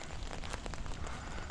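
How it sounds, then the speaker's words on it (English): Rain patters steadily on an umbrella overhead in a cemetery, a close, crackly drumming of drops that fills the short stretch without a break. "I don't mind the rain. I just hate that you have to hear the umbrella."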